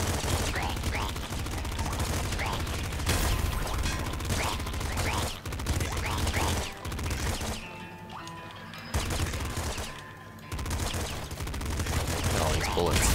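A pop gun fires bullets in Nuclear Throne, a dense stream of quick shots and impacts that fills the clip with brief gaps, loud and continuous over game effects.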